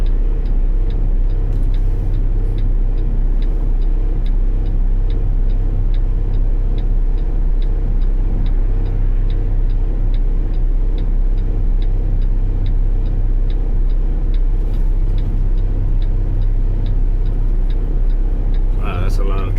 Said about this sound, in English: Wow, that's a lot of traffic.